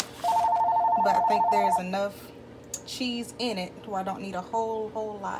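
A telephone rings in the background of a home kitchen while macaroni and cheese is being made, one steady two-tone electronic ring at the start with a person talking over and after it.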